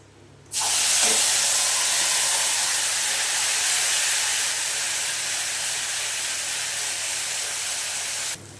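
Spice paste (masala) hitting a hot pan for a fish korma with banana, then a loud, steady sizzling hiss that runs on for several seconds and cuts off abruptly.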